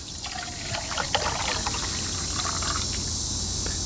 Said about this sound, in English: We're gonna carefully measure out 2 cups of water.